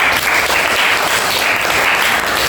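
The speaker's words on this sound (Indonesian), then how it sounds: "silakan tepuk tangan untuk kelompok A." Classroom audience claps for group A after a presentation on Islamic religious education, loud steady applause from a small group of people, filling the full two and a half seconds.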